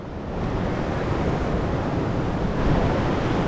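Sea waves wash against the cliffs of a rocky cove in a steady, loud roar of broadband surf close by, with no voices.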